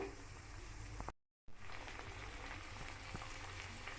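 Peas, boiled soft, frying lightly in a pan for matar paneer, giving a steady soft sizzle with faint crackle; the sound cuts out briefly once, then carries on evenly with no talk.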